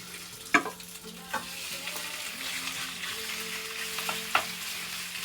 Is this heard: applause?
no